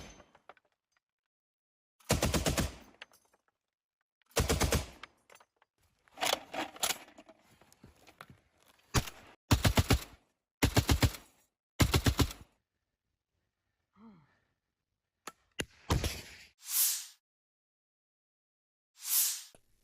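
T-72B tank crew firing on an enemy fortification, a series of sharp, loud blasts and bursts coming in irregular volleys with short silent gaps between them.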